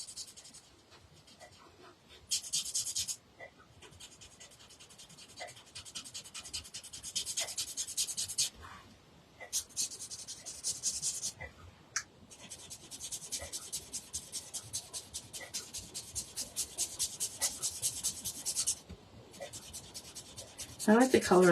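Colored pencil scratches on paper in small circular strokes, a soft rasping that comes in repeated bursts with brief pauses, fairly close and quiet, as a cupcake holder is colored in.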